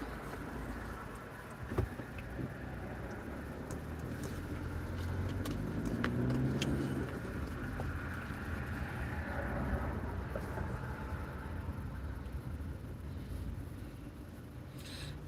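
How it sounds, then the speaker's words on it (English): Cars sitting in a traffic backup, heard as a steady low road and engine rumble from inside a vehicle, swelling slightly midway, with faint clicks and no speech. "Oh, looks like we got a little backup of cars."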